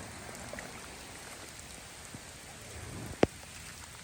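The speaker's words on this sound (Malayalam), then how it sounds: "ശക്തമായിട്ടുള്ള മഴ പെയ്യുന്നുണ്ട്" Steady rain pours down in a continuous dense hiss, with one sharp knock near the end.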